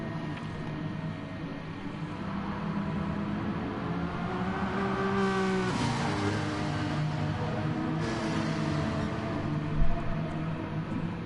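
A Gr4 race car engine in Gran Turismo Sport drones steadily throughout, with rising and falling revs and a brief bump near the end, moderately loud with no talk.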